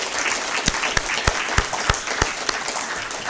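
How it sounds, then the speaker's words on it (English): An audience applauds honorees at a high school Athlete of the Year ceremony, a dense wash of clapping with a few sharper individual claps standing out, with no talk. "how about another round of applause for the honorees today?"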